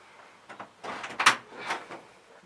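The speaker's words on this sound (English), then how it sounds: "Let me just open the door for him." A household door is opened with a few short clicks and knocks of the handle and latch, then a brief scrape and thump as it swings, close and fairly loud in a quiet room.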